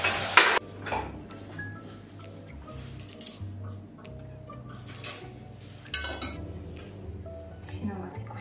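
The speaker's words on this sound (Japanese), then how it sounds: "一旦お鍋をきれいに洗います。" A cooking pot and utensils clink and scrape in a sink with running water, metallic knocks scattered throughout, while a voice talks quietly in the background.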